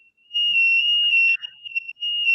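A fire alarm shrills indoors during a talk on employment: a steady, piercing electronic tone, loud and close, briefly breaking off once before resuming.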